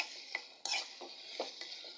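Bitter gourd sizzles in a cooking pan as a utensil stirs it, giving several distinct scraping strokes over a soft, continuous frying hiss, close and fairly quiet.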